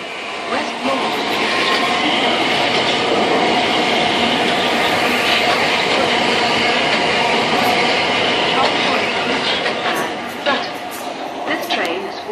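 A train passes through Norwood Junction station in South London with a loud, continuous roar and rattling wheel clatter close by, steady for most of the pass and easing briefly near the end, with scattered higher squeals over the top.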